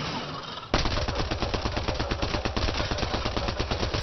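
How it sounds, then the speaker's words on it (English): Rapid automatic gunfire from a sci-fi shooter game, Mass Effect Andromeda, bursts in suddenly and keeps up a dense, steady stream of shots, loud and close. "That's a lot of bullets."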